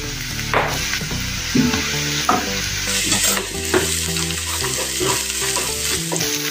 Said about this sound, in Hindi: इसको भी 2 मिनट भून लेंगे अदरक लहसुन के पेस्ट को।